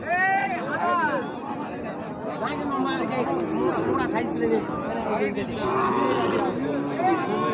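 Cattle lowing repeatedly at the Raniganj cattle market, with several moos overlapping amid a busy hubbub of voices and market chatter, close and loud throughout.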